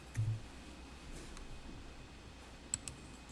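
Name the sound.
mouse click on the load button in accounting software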